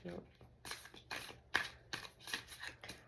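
Hand shuffling of a deck of cards, heard as a steady series of crisp, papery riffles and snaps about every half second, close and fairly clear, with no talking.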